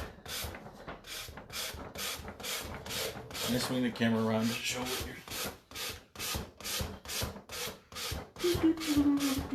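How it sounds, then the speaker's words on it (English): Steady rhythmic rasping strokes of hand sanding with sandpaper wrapped around a sanding block on the edge of a door, about two per second, close by, while a person talks briefly over it. "I'm gonna wrap it around a sanding block, and I'm gonna come to the edge of my door"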